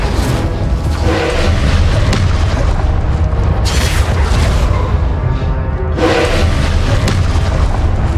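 Deep booming blasts from the Incendio fire spell in the video game Hogwarts Legacy, several loud explosive bursts with rumbling tails, one around the middle and another near the end, over a constant low rumble.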